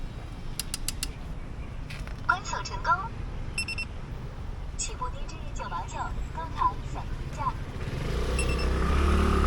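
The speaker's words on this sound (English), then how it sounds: "That bike speaks Mandarin." A shared electric bike in Shanghai gives a series of beeps and mechanical clicks as it unlocks while a recorded voice speaks a prompt in Mandarin, followed by rising wind noise.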